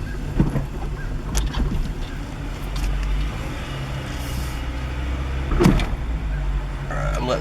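Inside a 1998 Acura Integra with the clutch held in, a low engine hum runs under a few sharp mechanical clunks and knocks as first gear is selected, one solid thud standing out near the end.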